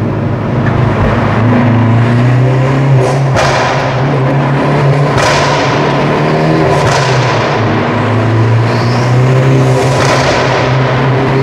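A Hyundai Veloster N manual hatchback revs and roars continuously, with deep rumbling exhaust and a few sharp pops, no talking.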